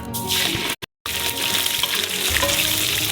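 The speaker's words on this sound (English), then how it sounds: "And just fry it for a couple of minutes until golden brown." Food fries in about 600 millilitres of hot sunflower oil in a cauldron over maximum heat, a loud, bright crackling sizzle that drops out for a split second, then resumes, busy and close.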